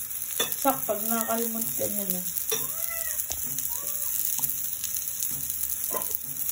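Food fries in a pan with very little oil, giving a steady hiss and crackle throughout while people talk close by and a cat meows in the background.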